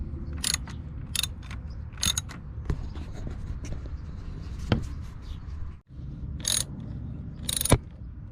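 A ratchet wrench tightens the battery hold-down bolt on a 2018 Honda Fit, with short bursts of rapid clicking separated by pauses and some clunks of the tool, close and clear, no talk.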